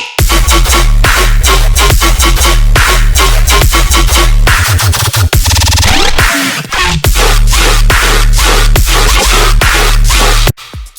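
A punchy kick drum track with transient-shaping sidechain processing hits in a fast, steady pattern within a loud, dense mix, pausing briefly for a sweeping break midway before resuming.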